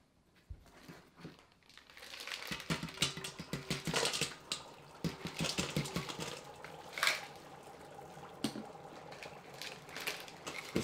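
Busy, irregular bubbling and crackling fizz of dry ice in water, rising quickly and continuing steadily up close.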